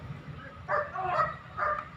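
Police dog barking at a suspect during a dog show demonstration, giving a few sharp barks at medium distance over a noisy outdoor background.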